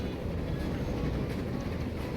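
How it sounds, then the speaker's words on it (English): Train running in the video game Transport Fever, a steady continuous rumble with a faint rhythmic rolling texture, even in loudness throughout and heard alone without talk. "So this is where the train heads to number 2"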